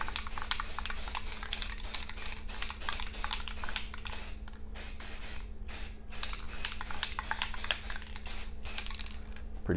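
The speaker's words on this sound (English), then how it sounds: "We're spray painting guns, it's no big deal." Repeated bursts of spray paint hiss in quick short pulses onto an AR rifle lower receiver, close and steady, over a low constant hum.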